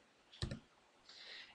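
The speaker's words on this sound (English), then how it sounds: "I'm gonna go R on the keyboard for rectangle." A single sharp click of the R key being pressed on a computer keyboard, close and quiet, followed by a faint hiss.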